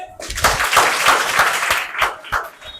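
A classroom full of students at a girls' high school claps together in a burst of brisk applause, loud and close, tapering slightly toward the end.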